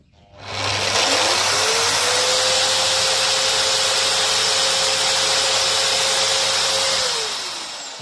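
A MAXXT drywall sander with vacuum dust collection switches on, spins up to a loud steady whining roar with a strong motor tone, holds for several seconds, then winds down near the end.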